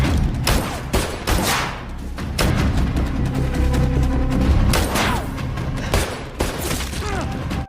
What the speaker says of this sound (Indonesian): Di sini mereka saling jual beli tembakan